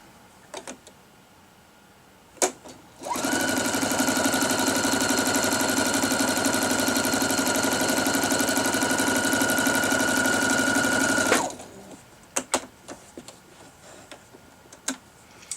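A sewing machine stitches together two fabric squares a quarter inch from a drawn line, starting after a few handling clicks with a loud, steady rapid ticking whir for about eight seconds, then stopping into light clicks and rustles.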